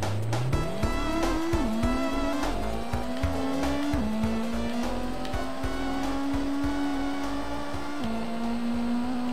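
Toyota Supra race car in the Gran Turismo video game, its engine note climbing through gear shifts with rising revs and brief drops, tire squeal over a steady loud roar throughout.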